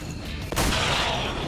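A single sharp pistol shot fired in XCOM 2, landing abruptly over a steady rumbling ambient bed and trailing off into a brief, noisy wash.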